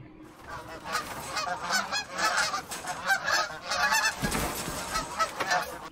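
Geese honk repeatedly from a movie soundtrack, a busy and fairly loud flock calling in overlapping bursts from start to finish, with no talk over them.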